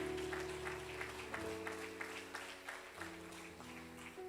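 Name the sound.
congregation applauding in church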